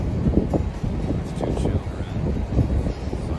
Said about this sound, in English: the wind has been so bad, but just so windy